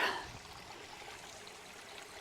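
Water from a mountain stream on a Scottish hillside being collected, a soft continuous trickling and gurgling with a brief louder splash at the start, fairly quiet with no talking.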